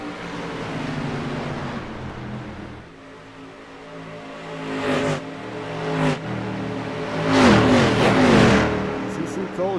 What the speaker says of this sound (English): You see Cole just drifting that car.